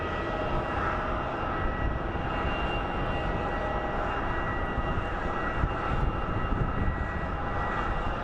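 A Mesa Airlines airliner taxis fast at Phoenix Sky Harbor International Airport, its engines producing a steady, loud broadband roar and whine that holds evenly with no voices over it.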